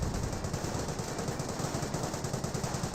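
Rapid gunfire and mortar impacts from a Company of Heroes battle with a Wehrmacht sniper, dense crackling bursts running continuously at a steady loud level.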